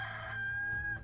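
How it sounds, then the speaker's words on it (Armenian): A rooster crows once in a brief, faint, sustained call, heard alone during a reading of Matthew chapter 26. "Եվ նույն պահին աքաղաղը կանչեց"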